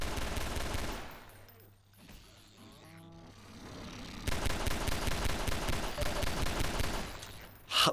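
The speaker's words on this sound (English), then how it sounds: "Like, my god, is this pistol atrocious." Pistol gunfire in the Half-Life 2 video game: bursts of rapid, loud shots at close range with a brief lull midway, then a sharp final report at the end, no talking.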